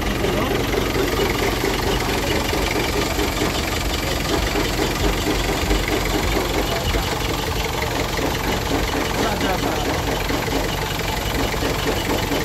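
Mitsubishi L300 van engine running steadily at idle, a continuous close knocking diesel-like drone with faint voices underneath.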